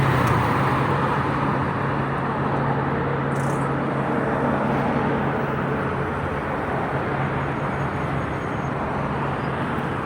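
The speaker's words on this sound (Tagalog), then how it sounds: "Mga kalsada pati dito hindi nauubusan ng sasakyan." Busy road traffic outside Al Nakeel Mall on a Friday night, a steady loud wash of passing cars and engines with a constant low hum, no clear individual pass-bys.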